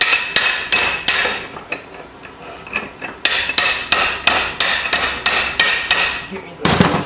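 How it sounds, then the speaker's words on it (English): Metal bar clamped in a vise being hammered flat, about a dozen sharp ringing blows in a steady rhythm, loud and close, with no talking. "throw that in the vise, drop the bar down, and just use it to"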